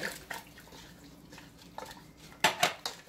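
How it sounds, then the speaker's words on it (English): Contents of a can being added into a pot of homemade chili, giving a few short, clattering knocks of can and utensil against the pot, with quiet gaps between them. "I'm going to go ahead and add the rest of that can"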